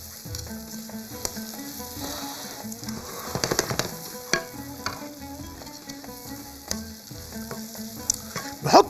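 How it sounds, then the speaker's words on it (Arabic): Cauliflower and minced meat sizzle in a hot pan as they're stirred, a continuous close frying crackle with scraping utensil strokes and a few louder clatters near the end. "كده نبدا نقلب"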